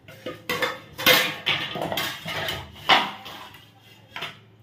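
Chopped ridge gourd and pumpkin stems are dropped into a metal pot of mung dal, bringing a series of clattering, scraping metallic knocks from a spoon and vessel, close and uneven.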